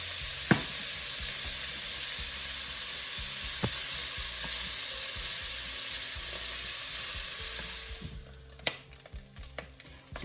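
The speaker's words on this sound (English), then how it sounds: "You can hear that popping, and that is a good sign that the mince is going to be lovely, brown and caramelised." Beef mince browning in a hot pan for lasagne, a steady loud sizzle with scattered sharp pops throughout, the frying hiss dropping away near the end as clattering stirring takes over.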